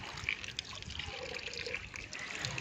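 Water trickles and splashes steadily as a container is filled in a home garden, a soft, continuous running sound at moderate distance.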